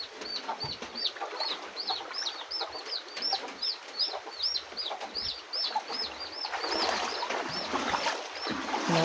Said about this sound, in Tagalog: Ayan ang aking manok.